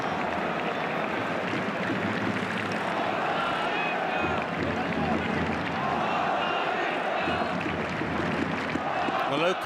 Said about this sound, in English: The local fans all cheering on Inter.